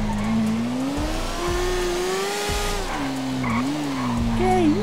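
A Hornet motorcycle in the video game GTA RP revs and speeds along, its engine whine rising and falling across several gear shifts, heard close and steady with brief tire squeal.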